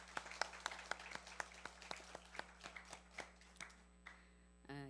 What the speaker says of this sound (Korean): 큰 박수로 환영해 주겠습니다